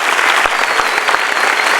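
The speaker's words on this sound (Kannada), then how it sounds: "ಒಂದ್ಸರಿ ಜೋರ ಚಪ್ಪಾಳೆ ತಟ್ಟರು." Loud, dense applause fills the hall at a college annual day function in Dharwad, steady clapping from a large audience throughout with no talk over it.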